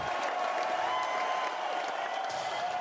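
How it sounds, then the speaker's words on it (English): An audience claps in a sustained, dense round of applause that fills the whole stretch, steady and moderately loud, with no voices over it. "Round of applause for that."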